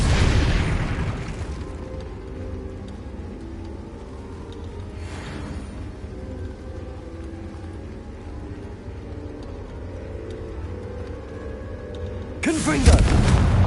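Booming spell blasts from the Confringo curse in Hogwarts Legacy, one heavy burst opening the moment and another at the end, with a low rumbling hum between them.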